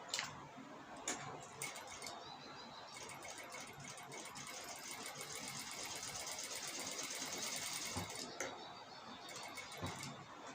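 Domestic sewing machine running a straight seam on blouse fabric, a continuous fast mechanical rattle sustained for most of the stretch with brief pauses near the start and end, close and steady.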